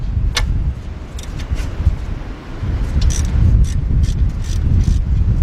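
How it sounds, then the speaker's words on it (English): A 3/8-inch drive ratchet with a 7mm hex socket turns a bolt during a rear brake pad replacement on a 2007-2019 BMW X5/X6, giving a few sharp metallic clicks over steady low workshop rumble. "I got a 7mm hex socket with a 3/8 drive. And what I'm going to do here is get this one, get my 3/8 drive ratchet"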